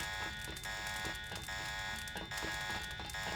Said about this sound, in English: the alarm has triggered